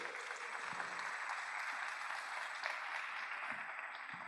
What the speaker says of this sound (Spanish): ¿Qué tal si con un fuerte aplauso recibimos a Zaida Andrea Quintero?